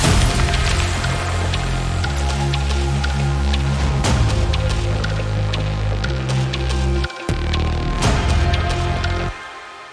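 The intro of an electronic music track plays loud and dense, with a pulsing bass pattern, sharp percussive hits and layered synth textures that cut out briefly near the end.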